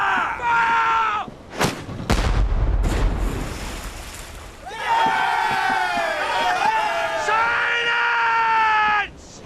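A ship's bow chaser cannon booms amid a period naval battle, with a heavy low blast and rumbling aftermath, bracketed by loud shouting and crowd yells before and after.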